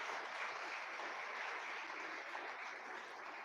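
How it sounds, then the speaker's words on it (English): Applause from an audience at a school event at St Xavier's ICSE, Vasai: a dense, steady clapping that holds at an even level for about three seconds, with no voices. "A big round of applause to all the audience"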